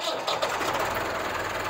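A 1996 England-made Massey Ferguson 375 tractor, 75 hp, runs at a steady idle nearby, a dense even engine drone with slight rhythmic knock that holds throughout.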